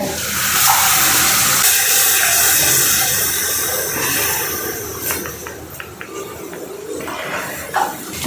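Water is poured into a pan of frying chilli masala with curd, turmeric and salt, setting off a loud, steady sizzling hiss that holds, then eases slightly, with a few crackles.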